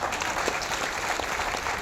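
Audience applause at a Jan Suraaj political speech in Bihar, a dense, steady wash of many hands clapping throughout, fairly loud with no voices standing out.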